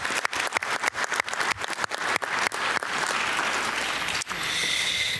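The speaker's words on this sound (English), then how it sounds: "Please join me in giving them a big round of applause." An audience at a county budget town hall breaks into applause, first as scattered distinct claps that quickly swell into a dense, sustained round lasting several seconds.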